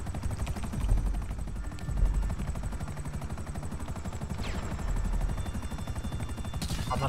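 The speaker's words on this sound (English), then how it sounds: "I can't get them with my helicopter in there." Helicopter rotor chop in a GTA video game, a steady dense beating throughout, with game gunfire bursts mixed in and loud, close engine noise under everything.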